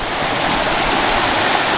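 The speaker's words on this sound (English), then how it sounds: "We're crossing the creek in Yellowstone Canyon." Creek in Yellowstone Canyon rushing loudly and steadily, a dense, continuous close-up water roar with no voices.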